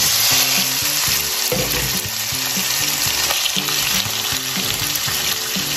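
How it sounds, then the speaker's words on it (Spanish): Beef sizzles loudly in hot oil in a pan, a steady, close, crackling fry with a faint stirring scrape underneath, no voices. "ponemos a calentar una paila con un poco de aceite, que esté caliente, es importante. Y vamos a agregar nuestra carne"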